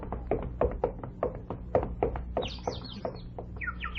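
Little birds, one of them a robin, chirp in a radio play: quick high chirps and short trills come in the second half over a steady rhythm of soft knocking thumps, fairly close.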